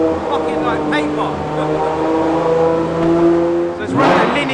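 An 1800 bhp Nissan GT-R with a linear exhaust idles with a steady, droning engine note, then a sharp revving burst near the end, as people talk over it.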